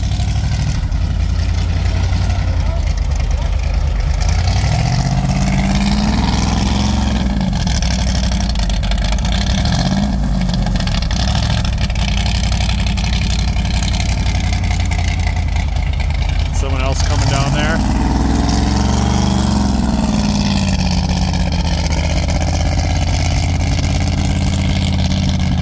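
Engine of an Argo Centaur tracked vehicle on a mountain trail, a steady low drone that swells into louder revving bursts a few times, with people talking over it throughout.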